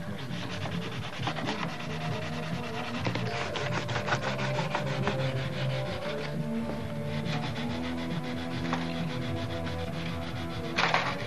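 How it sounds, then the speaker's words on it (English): Painted surface of a Brodak Cardinal model airplane body being scuffed by hand, a close, continuous rhythmic rubbing and rasping that continues steadily throughout. "so scuffing the paint, is the scuffing helping any?"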